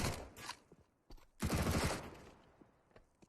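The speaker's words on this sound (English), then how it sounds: "Mac 10 at range, not ideal, but does get the ding." MAC-10 submachine gun fire in Counter-Strike comes in several short bursts, with a longer burst in the middle and fainter taps and footsteps between them.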